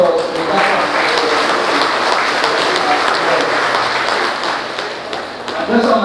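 An audience applauds representatives of ex-Caroni workers at a gathering, a sustained wash of clapping that dips slightly before swelling again near the end, with some voices mixed in.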